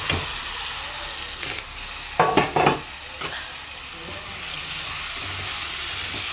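Tomatoes tipped into a pan of softened frying onions for a tomato curry give a steady hiss of sizzling with a few brief clatters of stirring, close and continuous.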